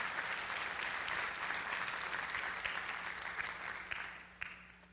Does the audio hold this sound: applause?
yes